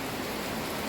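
Steady nighttime rain falling in Thailand, a dense even hiss of drops on surfaces that holds at a constant level throughout, with no voices or other distinct sounds.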